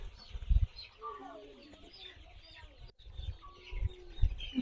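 Chickens and young chicks cluck and peep faintly on a poultry farm amid background rustling, with irregular soft calls spread through the scene.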